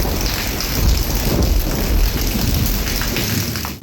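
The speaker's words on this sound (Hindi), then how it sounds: "बलूचिस्तान के मुख्तलिफ इलाकों में मानसून की बारिशों का सिलसिला जारी।" Heavy monsoon rain pours steadily in Balochistan, a dense, close hiss with low thunder rumbling beneath it throughout.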